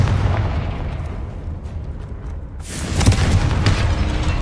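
A Confringo blasting spell goes off in Hogwarts Legacy inside a tomb, a sudden bright burst of fiery crackle and rumble after a low ambient hum, with the blast tail lingering loudly to the end.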